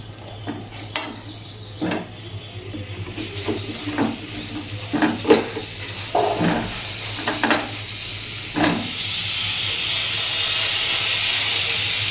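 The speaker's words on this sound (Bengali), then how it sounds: "চলো আলুটা ভাজছি" Potatoes frying in a pan on a gas stove, a steady hiss that swells into a loud, dense sizzle in the second half, with scattered clacks of stirring and handling throughout.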